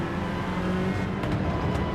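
A Suzuki Swift race car from Gran Turismo 7 at Interlagos runs at high speed, its engine holding a steady, buzzing high-rev drone near and continuous for two seconds, with no talk.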